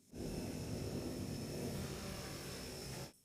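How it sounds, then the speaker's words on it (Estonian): Radio-controlled Chinook model aircraft with thrust-vectoring propellers mounted on top, a steady whirring propeller drone with a thin high whine that starts abruptly, holds evenly for about three seconds, then cuts off. "Järgmine näide on raadioteel juhitav Chinooki mudel."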